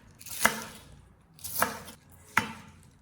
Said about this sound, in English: Prepare some green onions and cut them into small pieces